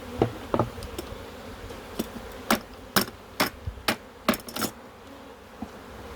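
Honeybees hum around an open beehive during a hive inspection, a faint steady buzz underneath several sharp clicks and knocks from frame handling, close by with no talking.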